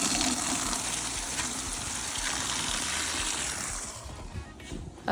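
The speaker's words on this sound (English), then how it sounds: "Then we got to fill up his water bucket." Water gushes steadily from a hose or tap into a horse's water bucket at a stable during a winter routine, a continuous broadband rush that stays fairly loud throughout and eases slightly near the end.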